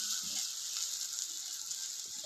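Green chili and ginger paste added to hot oil in a pan while cooking chana dal with coconut: a steady, close hiss of sizzling with faint stirring scrapes, no voices.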